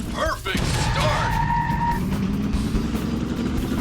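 A Wii racing video game car engine roars steadily with a brief crash or impact burst near the start, the engine droning loud and continuous afterward, with game effects layered on top.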